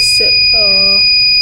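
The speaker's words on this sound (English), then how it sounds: "so that's why buzzer is alerting" Buzzer of an ESP32-based health monitoring system sounding an alert, a short steady electronic tone about half a second long, loud and close, with a harmonic-rich buzz and a constant high whine behind it.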